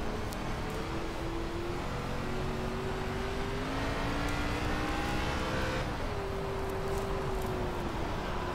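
ARCA race car engine in iRacing on the Bristol dirt track, a steady droning hum with rising and falling pitch as the throttle is worked, continuous and fairly loud with no talking.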